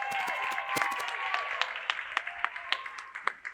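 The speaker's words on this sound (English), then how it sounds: "another round of applause for our first half performers" Audience at an elementary school TED-Ed night applauds the first-half performers; a dense patter of clapping thins toward sparser, distinct claps near the end.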